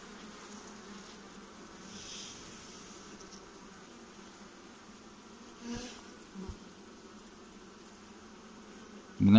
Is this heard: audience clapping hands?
no